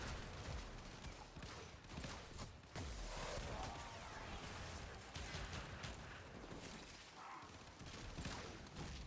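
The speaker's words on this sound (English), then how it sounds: "Full auto dual shotgun pistols." Full-auto dual shotgun pistols firing in a video game, a dense, continuous barrage of blasts with quieter breaks, heard faintly with no speech.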